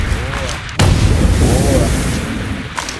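A sniper rifle in the Badlanders PvP shooter game fires one sharp, booming shot that rings out under a player's voice chat, with faint game ambience around it.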